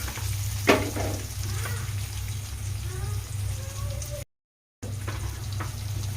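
Vegetables for sambar, with tomato, drumstick and bottle gourd pieces, sizzle softly in a pot under a low hum, with a few stirring clinks and a brief gap of silence.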